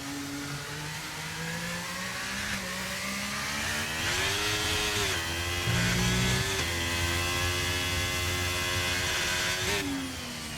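Racing video game car engine on the Portugal circuit in the rain, revving loud and continuous with rising and falling pitch as it shifts through gears, no talk.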